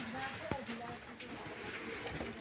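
Pigeons of an old-generation breed murmur and coo softly inside a loft, with faint chirps and a brief wing flutter, all at low, close-by levels.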